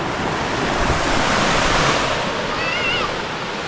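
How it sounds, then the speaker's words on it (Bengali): Katiki waterfall in the Araku Valley roars as a constant loud wash of rushing water, close by and steady, with wind buffeting the microphone and a faint whistle near the end. "ওয়াটারফলসের একদম সামনে চলে এসেছি।"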